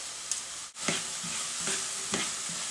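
Onions cut into small pieces sautéing lightly in a pan for potato soup, a steady soft sizzle broken by a few sharp scrapes and stirs, close and alone with no talk.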